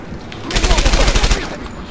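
A Thompson submachine gun in the Medal of Honor Airborne video game fires one rapid burst of about a dozen close, loud shots lasting roughly a second, then cuts off.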